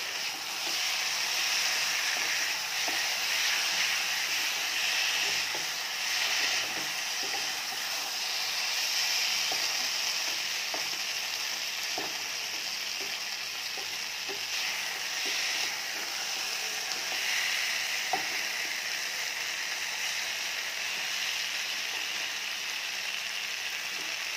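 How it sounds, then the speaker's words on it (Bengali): Spices sizzle in a pan over medium heat while chicken cooks without oil, a steady, continuous hiss with small crackles and no talking. "এই যে মশলাগুলো ভাজা ভাজা হয়ে গেছে"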